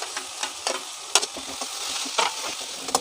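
Boiled potatoes are stirred with spices in a frying pan for aloo chutney: brisk spatula scrapes and light sizzling, close and fairly loud, with no speech.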